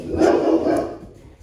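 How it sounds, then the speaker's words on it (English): A single dog gives two quick, fairly loud barks close by, followed by a fading tail of room echo. "that's not aggression, that's just my dog."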